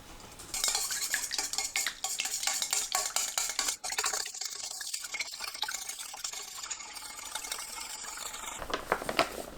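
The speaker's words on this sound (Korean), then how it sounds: "계란 1개, 우유 100ml 섞어주세요" One egg and 100 ml of milk are whisked in a bowl, a continuous rhythmic scraping and clinking of a utensil against the sides, close up with no talking.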